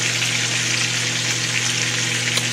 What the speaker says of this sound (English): 3 flips on each side for a thick cut, well done steak.